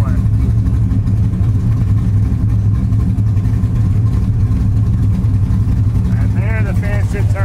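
A Chevrolet LS V8 swapped into a Mazda Miata idles with a steady, loud low rumble throughout, while people talk over it near the end.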